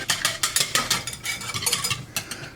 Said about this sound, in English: Let's just put it here and whisk it very well together